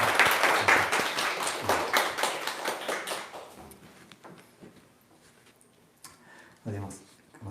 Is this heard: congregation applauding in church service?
yes